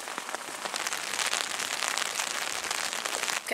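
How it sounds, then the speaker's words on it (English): Steady rain in Wales, UK pours down as a dense, loud hiss of drops pattering and crackling on surfaces, unbroken for a few seconds with no voices. "I suppose at least it looks a bit different in the rain and sounds different."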